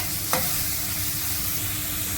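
Ginger garlic paste, green chilli and finely chopped onion sizzling steadily in a hot pan, with a quick stir scraping at the start and constant frying crackle throughout.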